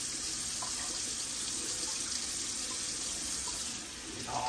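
Tap water runs steadily into a sink as pickling spices are rinsed off a cured fresh ham, a continuous, moderately faint splashing with no voices.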